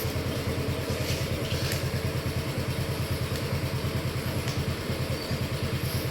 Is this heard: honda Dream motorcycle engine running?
yes